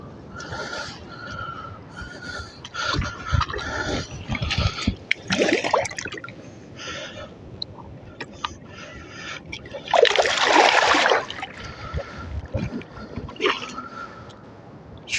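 A large channel catfish, about 80 centimeters, is released back into the water at night near Lockport, giving a few irregular splashes and sloshes close by, with brief handling noises and scattered faint sounds in between.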